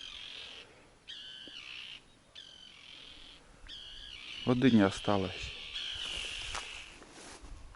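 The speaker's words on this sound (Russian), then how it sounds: "Чайки, они кричат, потому что у них птенцы вон там, в кустах." Gulls cry repeatedly near their chicks hidden in bushes along a riverbank, sharp harmonic calls coming in bursts at moderate distance, while someone speaks briefly partway through.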